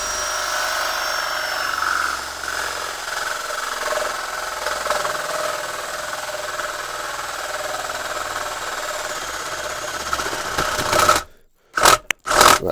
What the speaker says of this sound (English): we're starting to get quite a bit of chatter there, so I'm going to try to slow this down a bit